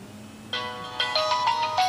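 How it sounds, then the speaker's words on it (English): A Samsung ringtone sounds on a Galaxy Player 5 for an incoming call, a bright melodic chime of short repeated tonal notes that starts abruptly after a faint hum and plays clearly at moderate volume. "So you can see that we have the Samsung ringtone right there."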